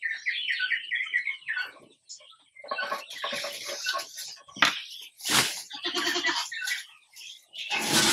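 A goat bleats up close on a farm, with repeated loud, nasal cries separated by short pauses.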